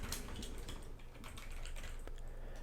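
Quiet, rapid clicking of keys on a computer keyboard, an uneven run of taps over a low background hum, with nobody speaking.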